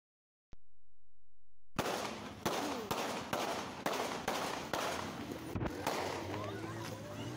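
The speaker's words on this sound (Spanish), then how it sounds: "Los últimos cuatro disparos ocurren dentro del círculo de gente" A rapid series of sharp gunshots fired in a street among a circle of people, about eight loud cracks spaced roughly half a second apart, ringing over steady background noise.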